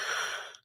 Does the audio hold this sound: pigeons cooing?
no